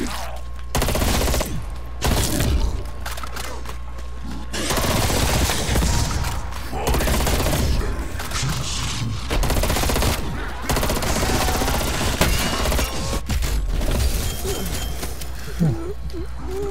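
Dense bursts of automatic gunfire in the zombie mode of the shooter Call of Duty, loud and close, come in long sustained volleys with brief gaps, mixed with thuds and game effects while someone talks over it.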